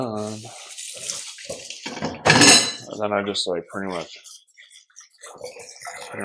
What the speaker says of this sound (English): just put some water in there, let it soak